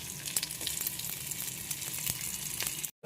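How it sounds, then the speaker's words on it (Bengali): Boiled potato pieces fry in hot oil with a close, steady sizzle and crackle, with a few sharper pops. The sound cuts off abruptly at the very end. "তেল দিচ্ছি, আলুটা ভাজবো।"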